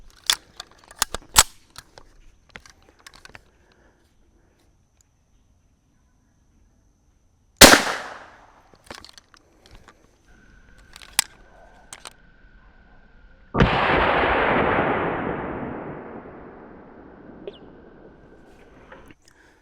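A rifle firing CCI Velocitor rounds into a ballistic gel block lets out two loud, close shots several seconds apart, each with a long booming echo that fades away, among small handling clicks.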